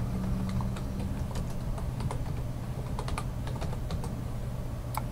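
Rapid, uneven keystrokes on a computer keyboard while entering a web search, a steady clatter of light clicks lasting throughout, close and fairly quiet with no talking.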